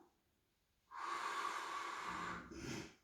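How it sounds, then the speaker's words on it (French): A long, steady breath drawn and released during a Pilates core exercise, close and clear, with a brief second exhale at the end; no talking. "Là, j'inspire et j'expire tranquillement"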